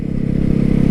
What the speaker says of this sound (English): See, this guy's on a Harley-Davidson right there